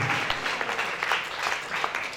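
A church congregation claps in a steady broadband wash of applause, dense and continuous throughout, with a voice faintly audible underneath.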